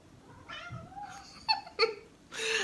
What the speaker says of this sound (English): Look at my little cat back there.